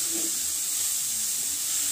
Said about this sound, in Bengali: এবার আগে থেকে যে গ্রেট করা গাজরটা আমি এর মধ্যে দিয়ে একটু ফ্রাই করে নেব।